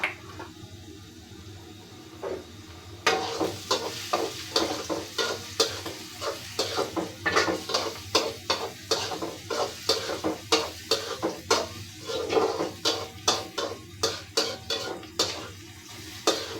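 Chopped eggplant stirred and fried in a pan, a faint sizzle at first, then steady rhythmic scraping and clinking of a spoon against the pan over continuous frying.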